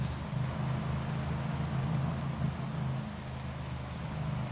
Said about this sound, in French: Il pleut beaucoup